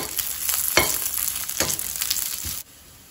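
Ingredients for idli podi dry-roasting and being stirred in a pan, a steady close rasping scrape and crackle with sharp stirring strokes, stopping abruptly near the end.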